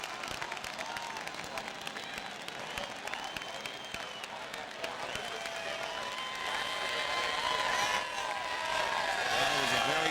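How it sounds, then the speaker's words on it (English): A crowd of race fans at the 1998 Pontiac Excitement 400 NASCAR race roars and applauds from the grandstands after a caution finish, a dense continuous swell of cheering and clapping that grows louder toward the end, with commentators talking over it. "Listen to the crowd."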